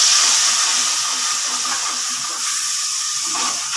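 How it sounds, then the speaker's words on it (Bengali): A splash of water goes into spices frying in a pan for a Bengali hilsa fish curry, giving a steady loud hiss and bubbling sizzle that continues evenly throughout. "দিচ্ছি অল্প জল"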